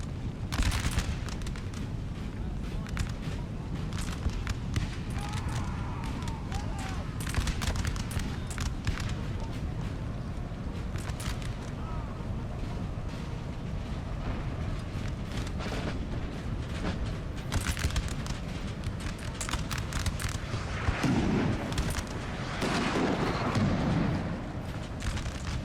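Cannon fire in a Napoleon Total War battle: a dense, continuous rumble of distant booms and crackling volleys stretches on without pause, with no clear voices on top.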